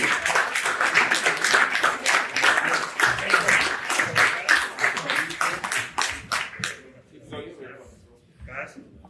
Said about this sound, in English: Give them a round of